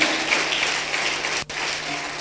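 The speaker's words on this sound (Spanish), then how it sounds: "Dale un fuerte aplauso al Rey de la Gloria." A church congregation claps in a Christian worship service, a dense, steady roar of many hands close and loud, broken by one brief dip before carrying on.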